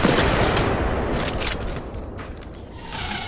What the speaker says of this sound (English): Keep it up, I'm getting shot at.